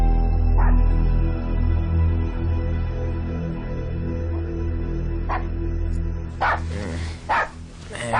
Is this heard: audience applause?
no